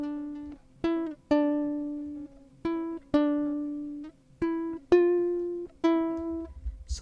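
Second electric guitar part from an FL Studio sample-making session, reverb-soaked single melody notes picked one at a time in a slow, spaced rhythm, each ringing out and decaying, clear and close with no talking.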